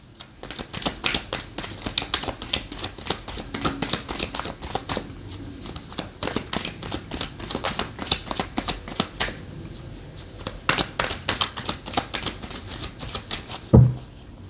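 Tarot cards are shuffled and drawn in rapid bursts of crisp, close riffling and flicking, with short pauses between runs and a soft thump near the end, no voices.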